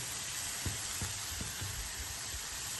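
Potato and pointed gourd sizzle in a pan of spiced fish curry, with a steady frying hiss and a few soft stirring knocks underneath.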